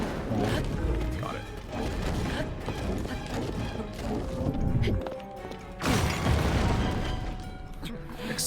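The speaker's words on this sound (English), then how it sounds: "Explosion." A bomb detonating in Zelda: Tears of the Kingdom, sharp crashing bursts and booms amid clattering game effects, with a loud broadband blast near the end.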